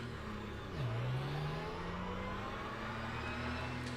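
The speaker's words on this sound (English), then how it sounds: "Like to be able to hear the car." A faint GT race car engine in the racing game Le Mans Ultimate hums steadily, dipping in pitch then climbing back into a sustained whine, fairly distant and with no talk over it.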